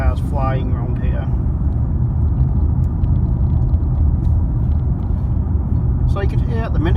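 Steady low tyre roar and road rumble fill the cabin of a 2017 Lexus LC 500h hybrid coupe cruising on a narrow country road. A voice speaks briefly at the start and again near the end.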